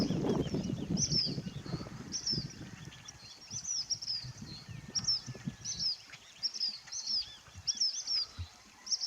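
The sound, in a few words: flycatcher-family bird calling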